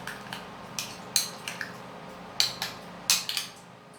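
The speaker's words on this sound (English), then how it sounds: "I'm going to stir it to mix everything all up" A spoon stirs an okra seed mixture in a bowl, making a few sharp clinks against the sides at uneven intervals over a quiet background.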